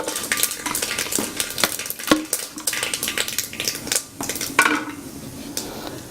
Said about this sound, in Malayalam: അപ്പം നമ്മുടെ കടുക് പൊട്ടി.